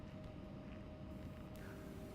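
An Embraer E175 jet's second engine spooling up in X-Plane 12, heard as a steady broadband roar with a thin whining tone running through it, continuous and fairly loud.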